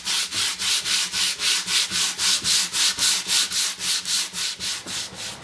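A Mosin Nagant Type 53 rifle's wooden stock being sanded by hand with coarse 60 grit sandpaper, with close, steady rhythmic back-and-forth rasping strokes, about three per second, and no talking.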